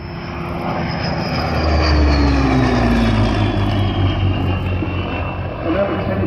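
A vintage biplane's Rolls-Royce Kestrel piston engine roars past at an evening airshow, loud and close, with its propeller drone sliding downward in pitch as it passes.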